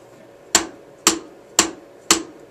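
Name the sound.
drumsticks striking drum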